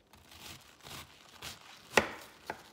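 A kitchen knife cuts onions against the grain on a board: faint soft slicing scrapes, then two crisp, sharp chops about half a second apart, with no talking.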